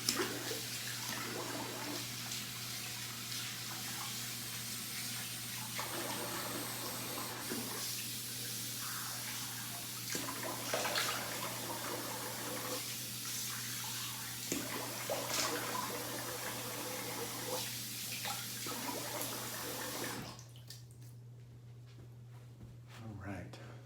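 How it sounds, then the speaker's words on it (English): A sink tap runs with a steady close rush of water while a face is rinsed after a shave, lasting about twenty seconds before cutting off to a quiet room. "Rinse the face here."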